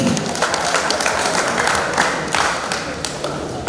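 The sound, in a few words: audience applause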